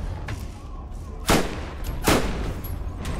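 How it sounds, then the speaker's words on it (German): Two loud booming blasts go off about a second apart over a steady background rumble, with a fainter pop before them, in Borderlands. "Alles explodiert um mich herum."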